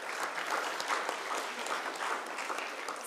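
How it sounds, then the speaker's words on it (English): A seated audience at a humanities career guidance event applauds to welcome a speaker, with continuous mid-level clapping from many hands and no talk over it. "Dear audience, please join us in welcoming our speaker by giving a round of applause."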